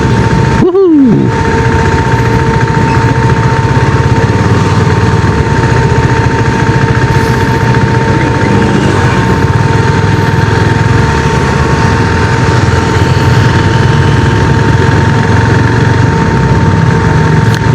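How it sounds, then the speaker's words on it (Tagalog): A KTM RC 390 motorcycle engine running at a steady idle, a loud, constant buzzing drone with a fixed tone throughout, heard close up with no speech. "Sarap, walang traffic, easy ride pa uwi with the KTM RC390."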